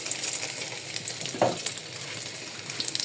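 An egg fries in hot oil in a pan, a steady close crackle and sizzle with one brief louder spatter partway through; no one speaks.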